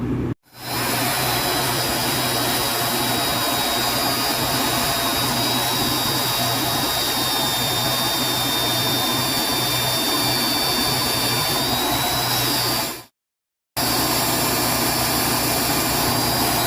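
A powerful magnetic drill motor whines steadily at high pitch for a long stretch while working on an aluminum dump trailer, cutting out briefly near the end before starting again.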